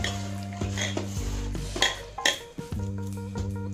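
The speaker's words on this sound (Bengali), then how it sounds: "একটু হাতে করে ভালোভাবে মেখে" Prawns being mixed by hand with poppy seed paste, mustard oil and salt in a bowl, giving close, irregular wet squelching and scraping against the bowl over steady background music, with a few sharper knocks.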